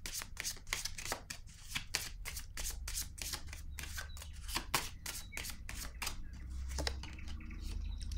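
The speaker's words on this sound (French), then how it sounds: "Je vais déposer une carte sur la lumière à l'envers." Tarot cards are shuffled and handled in a quiet room, a close, rapid series of soft riffling slaps and flicks, with brief pauses and no talk.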